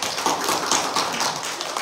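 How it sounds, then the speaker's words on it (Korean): A church congregation at a Sunday service claps in a short, dense burst that fills the room evenly for under two seconds. "우리 박수 한번 합시다"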